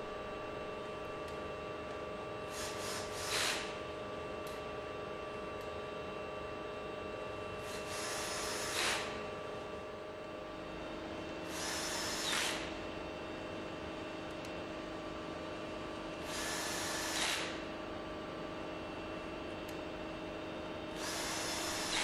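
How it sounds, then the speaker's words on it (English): Power tool driving the eight screws that bolt a pump's suction chamber back together, heard as four short whirring bursts spaced a few seconds apart over a steady humming machine background, with no talk. "the suction chamber is bolted back together with the 8 screws"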